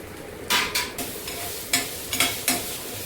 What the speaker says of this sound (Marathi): भाजी चांगली परतून घेऊ